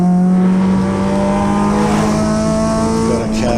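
Triumph TR7 sports car driving hard at the Goodwood Festival of Speed, its engine droning loud and steady with harmonic rises as it works through a section, a commentator's voice faintly underneath.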